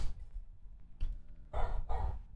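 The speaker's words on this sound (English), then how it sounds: "Sorry if you can hear the dog barking." A dog barks indoors at a distance, a few sharp barks with the loudest pair near the end, over quiet room noise.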